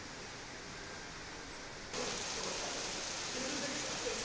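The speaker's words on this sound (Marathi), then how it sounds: "पुणे शहरात जोरदार पाऊस सुरू झालाय।" Heavy rain pours down over Pune city, heard as a steady, fairly quiet broadband hiss that thickens partway through, with no voices.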